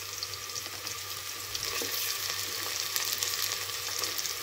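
Ginger, garlic and tomato sautéing in a pan give a steady, close sizzle and crackle with faint stirring scrapes, continuous throughout and with no voices.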